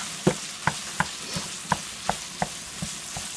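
Sausage and onions frying in a pan, a steady sizzle under repeated sharp taps and scrapes of a utensil stirring at a roughly even pace, close and moderately loud, with no talk.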